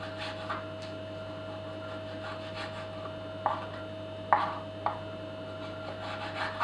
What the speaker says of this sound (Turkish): balıklarımı da ben şöyle ince bir şekilde kesiyorum